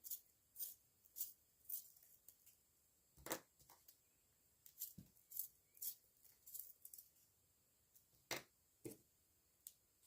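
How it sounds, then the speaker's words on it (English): Quiet, irregular scraping and clicking bursts of a pencil being sharpened, close up, with short pauses between strokes. "So I'm going to just sharpen my pencils a bit more."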